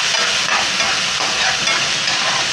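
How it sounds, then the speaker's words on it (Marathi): Ginger-garlic paste fries in a hot pan, giving a loud, dense, continuous hiss and sizzle, close and unbroken, with no one talking. "आता हे पण परतून घ्यायचे, ह्याचा कच्चेपणा जाईपर्यंत आपल्याला आलं लसूण पेस्ट छान परतून घ्यायची।"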